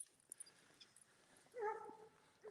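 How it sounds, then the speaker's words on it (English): A neighbor's dog outside on a cold, dark early morning gives a short faint whimpering yelp, distant and thin against quiet background. "She's interested in the neighbor's dog who's outside making some noise at her."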